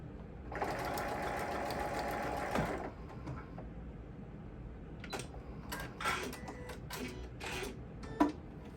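A sewing machine runs a short seam on a sling pouch, a steady rattling whir for about two seconds before it stops, followed by scattered soft clicks and handling taps.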